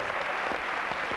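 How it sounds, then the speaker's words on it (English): A studio audience at a quiz show claps for the contestants, a brief, even patter of many hands at moderate volume with no voices over it. "Applause for them."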